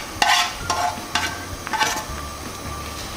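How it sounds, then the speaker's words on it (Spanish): Vegetables for orange chicken are stirred in a sizzling pan, with a steady fry hiss and repeated scraping strokes of a utensil at a regular rhythm, close up. "Aquí están nuestros vegetales y ahora vamos a revolver"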